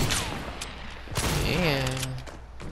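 Gunfire in a shooter video game crackles from two sides in quick bursts of rapid shots, loud and close, with speech mixed in.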